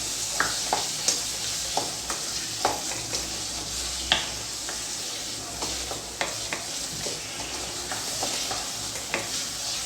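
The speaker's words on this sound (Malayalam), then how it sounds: "ഇതൊന്ന് നന്നായി മിക്സ് ചെയ്യാം." A steady wash of noise with regular soft clicks and taps of a spoon mixing ripe banana with sugar in a bowl, close and continuous over about ten seconds.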